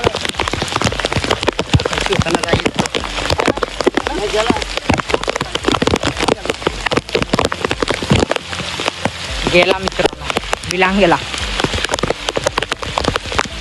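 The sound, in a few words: heavy first monsoon rain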